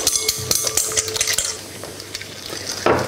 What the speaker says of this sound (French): Je vais mélanger le sucre à ce semblant d'omelette